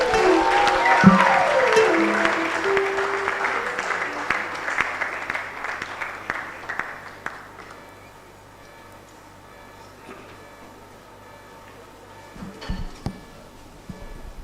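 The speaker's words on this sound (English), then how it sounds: "Please a round of applause for the registrar of the board." Applause at a prosthetics and orthotics induction ceremony, a fairly loud burst of clapping with a tonal chime overlaid that fades over several seconds, followed by quieter room sounds and a few scattered claps near the end.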